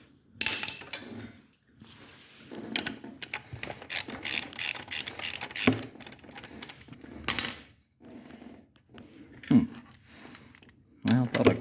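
A ratchet wrench clicks in short, irregular bursts while someone removes a bolt from an ATV fender to install Banshee pipes, with close, rattling metal-on-metal sounds and someone talking in between.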